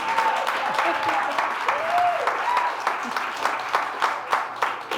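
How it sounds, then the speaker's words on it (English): Audience applause at a law firm event, continuous crowd clapping with sharper individual claps toward the end, moderate level, with faint voices mixed in. "Let's give her another round of applause."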